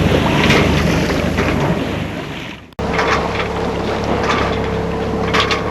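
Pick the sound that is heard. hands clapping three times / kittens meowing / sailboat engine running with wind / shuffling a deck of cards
sailboat engine running with wind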